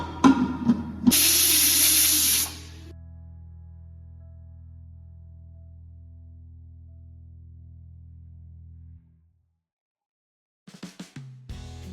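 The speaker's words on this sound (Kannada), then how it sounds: "ಕುಕ್ಕರ್ ಹಚ್ಚೋಣ್ರಿ" A pressure cooker holding chicken biryani lets out a loud, brief burst of hissing steam, followed by a long, quiet, steady hum.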